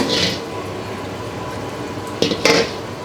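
Vegetable oil hits a very hot wok with a brief sizzle, followed by a few light metallic clinks and a second short hiss of oil near the end.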